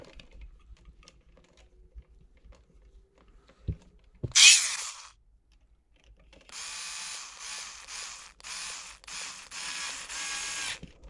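A screw is driven back into a Dyson V8–V15 direct drive connector clip joint, with a few small clicks, a loud short burst, then a long pulsing ratcheting whir from the driver, close up and without speech.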